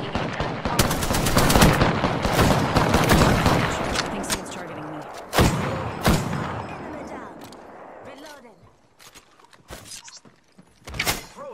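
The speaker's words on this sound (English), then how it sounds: "The enemies are shooting at me." Enemy gunfire in a video game, dense rapid bursts of automatic fire and sharp single shots, loud and close at first, then thinning to scattered reports with quieter gaps toward the end.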